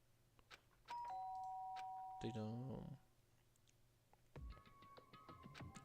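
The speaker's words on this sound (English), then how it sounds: "did I hear the doorbell?" A doorbell rings twice in the game Danganronpa Trigger Happy Havoc, a clear two-tone chime near 1 second with a second ring around 4.3 seconds, over soft background music and game sounds.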